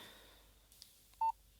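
A telephone keypad sounds a single clear dialing tone close by in a quiet room, preceded by a few faint soft clicks.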